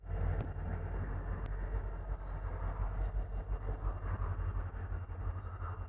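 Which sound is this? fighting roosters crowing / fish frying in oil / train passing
train passing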